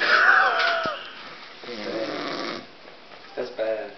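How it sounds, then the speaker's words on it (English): A sleeping person snores in several rough, rasping breaths of uneven length. The snores are close and moderately loud, and a few voice-like harmonic tones mix in. "You have to let them know that the snores are coming from her."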